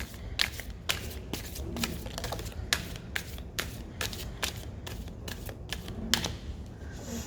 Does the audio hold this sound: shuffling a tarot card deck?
yes